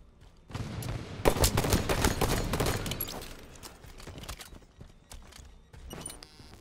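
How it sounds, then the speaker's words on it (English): Pistol gunfire from the CE pistol in the video game Halo 5: a dense run of sharp shots, loud and close, followed by quieter scattered reports. "is the sound effect for this CE pistol"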